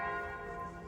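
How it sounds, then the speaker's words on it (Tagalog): A church bell rings with a sustained, richly harmonic tone that decays slowly, heard faintly and steadily at a distance without any talk. "Pero natunog yung kampana."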